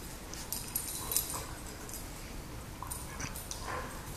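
Two dogs at morning playtime, faint yips, whimpers and soft barks scattered over several seconds amid light rustling, fairly distant and low in level.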